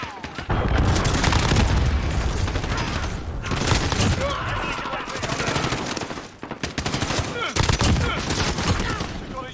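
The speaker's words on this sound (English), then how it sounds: "Allied cruise missile away." Nonstop gunfire and heavy booms from a cruise missile strike in Call of Duty: Modern Warfare, with dense rapid bursts and loud blasts filling the whole stretch and brief dips between volleys.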